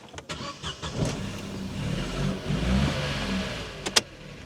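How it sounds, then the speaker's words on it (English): A car engine with a worn, chattering timing chain starts with a few sharp clicks, then runs with a rough, rattling idle at close range before a sharp click near the end. "Typical timing chain chatter."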